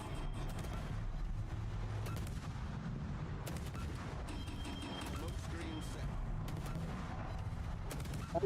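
Naval gunfire in World of Warships: dense, rumbling battle bursts and booms run steadily throughout, loud and continuous, with a voice talking over parts of it.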